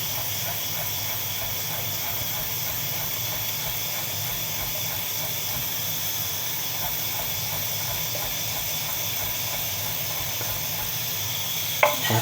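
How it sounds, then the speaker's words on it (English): A pressure cooker vents steam in a constant loud hiss that runs unbroken, joined by a brief clatter near the end, with no talking. "I'm going to lower the heat on the pressure cooker slightly."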